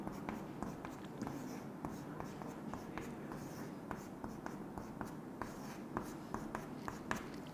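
A pen or pencil draws pictures on a workbook page, with quiet, close scratching strokes in short irregular bursts that continue throughout.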